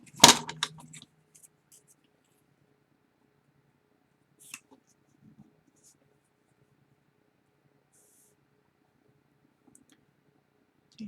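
Paper photos being trimmed for a beach-themed album: one sharp, loud cutting snap right at the start, then near-silence with a low steady hum, a few faint clicks and rustles, and a brief soft tap near the end.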